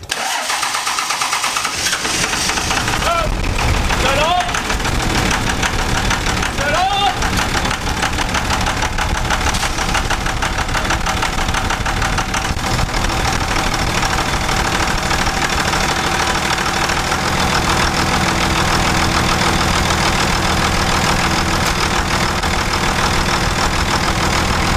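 A 2nd-gen Dodge Ram with a Cummins 24v diesel cranks, catches and then runs loud and steady at idle with a rough, knocking clatter throughout, close to the engine and with no talking.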